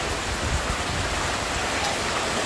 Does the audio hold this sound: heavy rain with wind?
yes